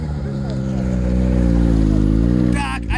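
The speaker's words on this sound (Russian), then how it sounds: "Вот, слышишь сейчас турбина?" A BRP Commander 900 ACE Turbo snowmobile drones steadily under throttle, its turbo engine holding a loud, close hum that rises slightly, then fades with a brief clatter at the end while someone talks over it.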